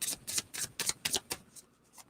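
Tarot cards being shuffled by hand close up: a quick series of crisp riffling bursts, about eight in a row, that taper off into softer flicks.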